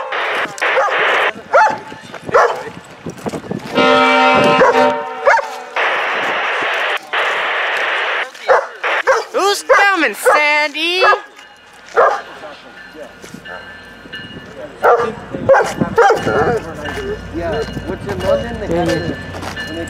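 Loud, close dog barks come in bursts over clopping and mixed background noise, with people talking at times.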